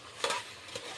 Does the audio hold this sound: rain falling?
no